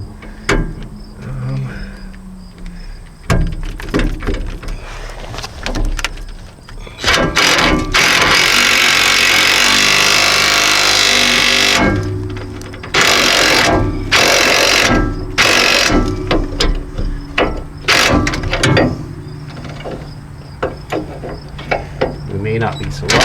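Impact wrench driving a sway bar end link nut on a Nissan Titan, with loud sustained rattling bursts that stop and restart, alongside nearby clanks and handling noise.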